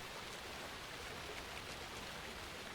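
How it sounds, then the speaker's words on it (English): A waterfall in the video game Alan Wake 2 rushes as a steady, even broadband roar, faint and continuous throughout with no other sounds. "There's the waterfall."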